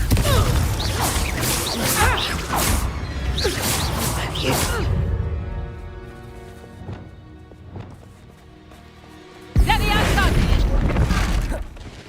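Confringo fire spell cast in Hogwarts Legacy, a loud explosive boom with whooshing rumble amid busy combat noise. A second heavy blast hits near the end.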